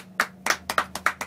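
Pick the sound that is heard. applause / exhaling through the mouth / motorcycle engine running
applause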